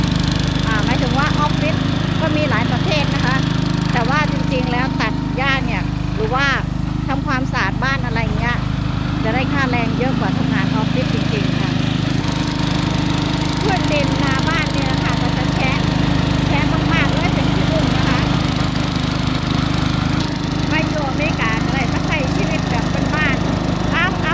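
A lawn mower runs steadily through a long stretch of grass cutting at a home in America, its engine drone constant throughout while birds chirp faintly and a voice talks over it now and then.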